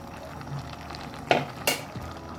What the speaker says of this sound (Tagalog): Medyo haluin natin.